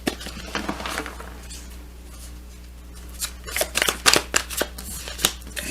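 A deck of tarot cards is shuffled by hand, with soft riffling and patting that grows into sharper, louder card slaps toward the end, over a low steady hum.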